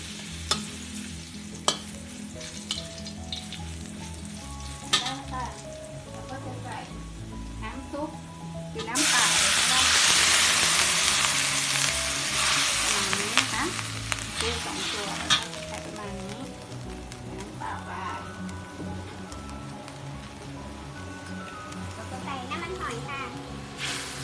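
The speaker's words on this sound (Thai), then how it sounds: "เจียวกระเทียมให้มันเหลืองก่อนนะคะ แล้วค่อยผัดนะ" Garlic frying in a pan and being stirred while preparing crab stir-fried with chili paste, a steady close sizzle that swells loudly midway with spatula scrapes, under background music.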